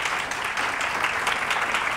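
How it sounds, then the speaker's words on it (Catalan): A studio audience on a Catalan TV word game show claps together in a brief, thick wash of applause that stays loud and steady throughout. "et regalo aquests aplaudiments"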